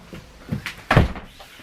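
A door closing indoors, with a few light knocks and shuffles leading into one solid thunk near the middle, fairly close and followed by faint room noise, with no talking.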